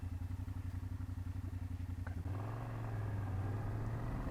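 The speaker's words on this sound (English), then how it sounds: "riding on the motorcycle" A BMW F800GS motorcycle idles with a steady pulsing throb, then revs up at about two seconds into a smooth, louder engine drone as the bike pulls away, heard close with no talking.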